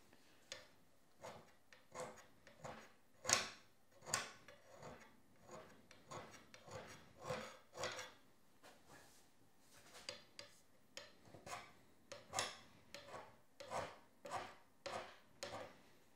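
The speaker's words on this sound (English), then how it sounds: "something that we're scraping right now for accuracy" Hand scraping on steel with a homemade scraper blade: a steady series of short, sharp rasping strokes, roughly one per second, close and fairly quiet, with no talking.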